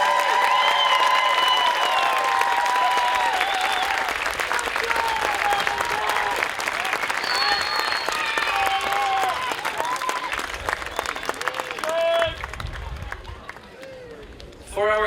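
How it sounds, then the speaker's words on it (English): Sustained applause from a school graduation audience fills the hall for a group of graduates moving on to high school, with cheers and voices over dense clapping that thins out near the end. "Let's give them a round of applause."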